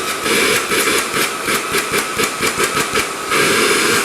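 Milwaukee M18 Fuel compact vacuum running on carpet, a loud continuous whooshing roar with rhythmic pulsing swells as it sucks up debris, close and steady with no talk.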